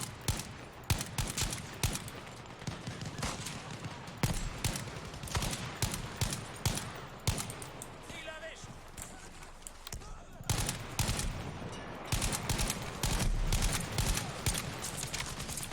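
Sniper rifle fire in the Battlefield V video game: repeated sharp shots and bursts near and far, crowded together across the battle, with players talking over them at times.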